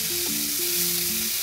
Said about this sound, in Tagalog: Saka nyo lagyan ng mantika at iprito kung anong gusto nyo iprito